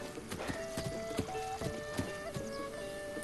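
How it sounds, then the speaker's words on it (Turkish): Zelda's horse in The Legend of Zelda: Breath of the Wild trots with a quiet, regular clip-clop of hooves, evenly spaced beats under faint ringing game tones, with no talking. "İşte Zelda'nın atı."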